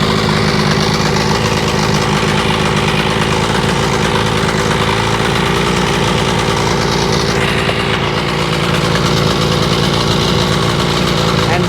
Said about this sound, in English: First time idling.